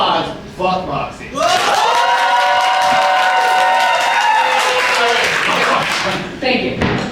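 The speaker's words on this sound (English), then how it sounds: "By a round of applause, fuck Moxie." Crowd at a live comedy show erupting in loud clapping, cheering and whooping for several seconds after a call for applause, then voices resuming.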